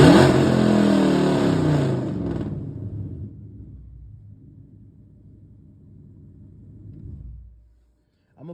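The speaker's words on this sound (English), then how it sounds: "Do a couple revs" A 2018 Ford Mustang 5.0 V8 revs loudly up close and then settles into a low, throaty idle rumble that fades away, with a short sharper burst at the very end.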